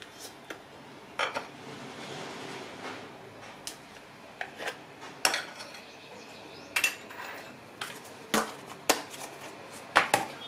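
A large spoon scoops butter into a mixing bowl for crispy honey-soaked Ramadan pastries, giving scattered sharp metallic clinks and scrapes against the bowl over a quiet kitchen background, with no talking.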